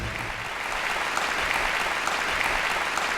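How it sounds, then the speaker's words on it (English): Warm studio audience applause at a nutrition and diet talk show, a continuous bright patter of many hands clapping at an even, sustained level throughout, with no voices over it. "thanks for that warm applause"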